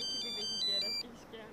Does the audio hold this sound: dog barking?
no